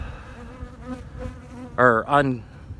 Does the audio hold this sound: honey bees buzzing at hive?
yes